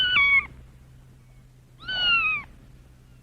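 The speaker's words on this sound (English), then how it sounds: "A cat goes." A cat meows twice, two short clear calls with a pause between them, close and fairly quiet with no talking.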